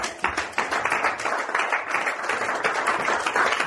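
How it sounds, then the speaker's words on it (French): A church congregation bursts into applause, a dense, continuous wash of many hands clapping together that stays full and even from start to finish, with no voices rising above it. "On acclame la parole du Seigneur."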